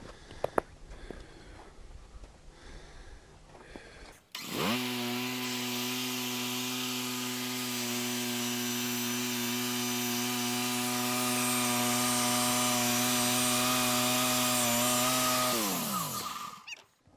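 A bandsaw mill powers up and runs through a log, cutting a one-inch wood slab with a loud, steady whining drone and a low engine hum that holds for about twelve seconds before winding down.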